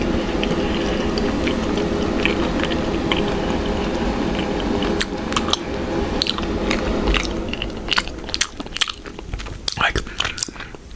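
Chocolate-stuffed marshmallows are chewed close to the mic, with soft, wet mastication at first, then sharper crackling bites and smacks toward the end.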